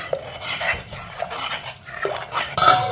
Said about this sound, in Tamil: இதை உடனே நம்ம கிண்டிடணும், இல்லாட்டா கீழே வந்து அடி பிடிச்சிரும்.